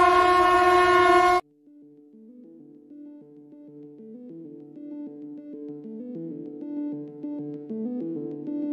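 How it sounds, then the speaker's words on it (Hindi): A train near Fatehpur railway station in Uttar Pradesh sounds a loud, sustained horn blast, then its steady rolling rumble and clatter follow and gradually grow louder as it approaches from behind. "तो ये पीछे देखो ट्रेन आ रही है"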